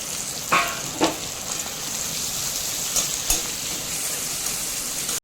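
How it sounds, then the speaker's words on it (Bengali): Chopped onion, capsicum and green chilli frying in hot oil for a noodle roll, a steady hissing sizzle close by with a few sharper spatula knocks and stirs, no voices. "গরম তেলে দিয়ে দিচ্ছি কুচিয়ে রাখা পেঁয়াজটা"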